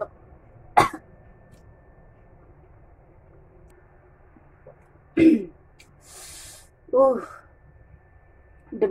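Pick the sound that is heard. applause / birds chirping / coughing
coughing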